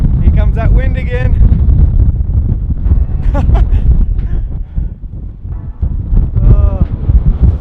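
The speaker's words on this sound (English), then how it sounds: "Here comes that wind again." Strong wind buffeting the microphone on a bikepacking trip through the Badja, loud, continuous low roaring gusts swelling and easing, with a person talking over it.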